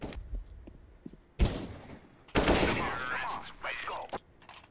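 Rapid AK rifle gunfire in a video game, loud bursts of automatic shots sounding close, with a short burst early on and a longer sustained volley; voices talk around the shots.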